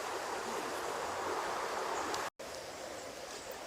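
A small stream feeding into the River Ribble runs steadily as a broad, even rush of water close by, unbroken apart from a brief dropout midway.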